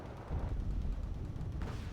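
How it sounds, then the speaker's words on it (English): Gunfire, including machine-gun fire, from the real-time strategy video game Wargame Red Dragon: a dense, rumbling volley of overlapping shots and booms that starts after a brief quiet moment and rolls on steadily. "Going to be backing off after taking some machine gun fire."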